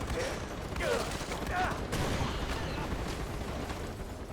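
Rapid machine gun bursts and scattered gunfire in the Far Cry 4 shooter game, a steady crackle of shots running throughout under someone talking.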